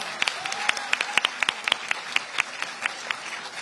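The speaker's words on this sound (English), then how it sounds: "Please show your appreciation with a rousing round of applause for Arbaz." Audience applause at a college annual day, with distinct individual claps standing out from a moderate, steady patter of clapping across a hall, fairly close and without speech.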